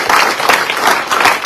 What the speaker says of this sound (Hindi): मैं आपकी तरफ से एक बार फिर से चाहूंगा तालियों के साथ स्वागत करिए हमारे डॉक्टर प्रदीप कुमावत जी का।